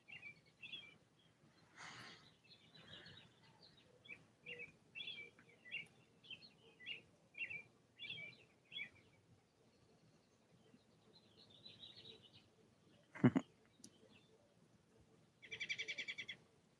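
Birds sing and chirp outdoors on a quiet afternoon, with short high calls repeating irregularly at moderate distance, one sharp knock partway through and a burst of denser chirping at the end; no one speaks.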